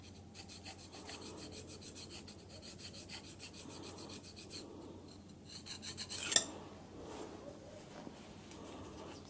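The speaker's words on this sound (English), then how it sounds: "Stoning uh, the surfaces really shows off the high spots" Abrasive stone rubbed back and forth over the worn jaw step surfaces of an old lathe chuck, a quiet rhythmic rasping of repeated strokes, close and alone, with one sharper scrape partway through.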